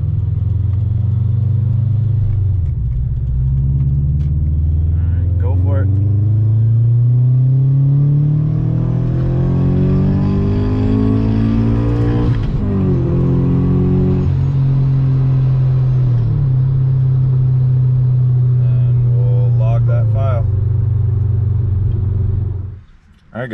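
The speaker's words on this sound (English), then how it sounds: "you'll want to be in second gear and do a pull from 20 to 60 miles an hour, full throttle" A supercharged Scion FR-S making a full-throttle second-gear pull from about 20 to 60 mph, engine note climbing steadily with supercharger whine, a brief shift or lift midway, then a settling drone, loud and close inside the car.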